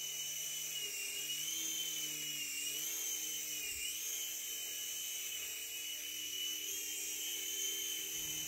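A T2M Spark SX toy drone hovers nearby with a steady, high-pitched whine of small buzzing rotors, its pitch wavering slightly throughout, with no talking.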